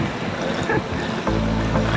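Stream water rushing near Mohani waterfall in Kulekhani, Markhu, a steady broadband roar that grows louder and closer partway through.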